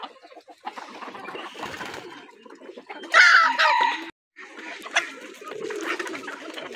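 Hens and roosters on a poultry farm cluck and squabble close by, with busy bursts of fowl calls and a louder flurry around the middle, set against quieter farmyard sounds.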